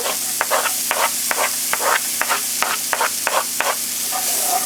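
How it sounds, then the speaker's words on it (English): Onion sizzles in melted butter in a pan over medium heat, a continuous frying hiss broken by regular scraping strokes as the pieces are stirred. "I have melted my 2 tablespoons of butter. I'm going to add the onion."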